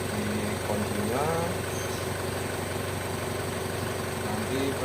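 An Isuzu Panther Touring diesel engine idles with a steady low rumble and faint whine, under a man's speech.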